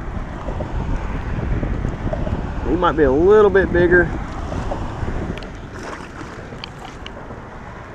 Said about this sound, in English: The wind's blowing right into this side